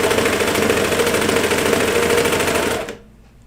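A sewing machine stitches children's pajama fabric along a hem in a steady, fast, loud mechanical whir with rapid needle clatter, running continuously before cutting off abruptly near the end.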